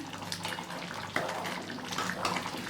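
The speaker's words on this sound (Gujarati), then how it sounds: "અહીંયા જો પાણી એકદમ બળવાની તૈયારીમાં છે" Water heats in a cooking pot toward a boil, giving off a quiet, steady bubbling hiss with small irregular surges.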